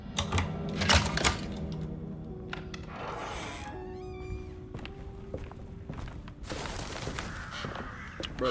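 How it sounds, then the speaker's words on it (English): Crows caw eerily in the horror game Alone In The Dark, harsh calls scattered over footsteps and clicking in-game sounds, fairly faint. "Bro, the birds are creepy."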